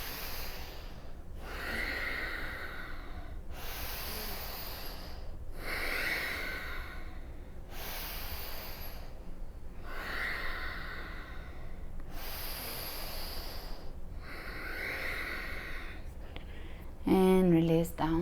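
Deep, rhythmic yoga breaths held in a high lunge, about seven audible inhales and exhales alternating steadily and close to the microphone, each a long airy rush; a brief unrelated chirpy sound enters at the very end.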